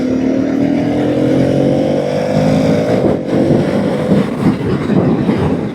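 A Kawasaki ZX-10 superbike rides past on a highway, its engine note rising then dropping in pitch as it goes by, loud and close over steady road rumble with no talk.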